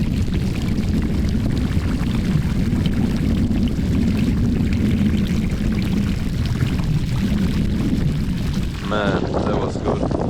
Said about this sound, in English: Warm shower in the middle of nowhere.